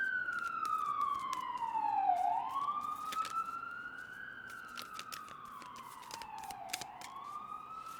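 A wailing siren sweeping up and down in pitch, loud and fairly close, with clicking and rustling noises scattered over it.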